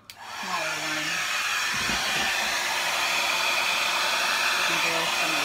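A small hair dryer blowing across a satin enamel Dutch paint pour, starting with a click and then roaring steadily and close for several seconds, with a faint knock partway through.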